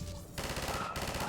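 A short burst of rapid gunfire from the Half-Life 2 video game, loud, dense automatic shots in a fast run after a brief lull, heard alone.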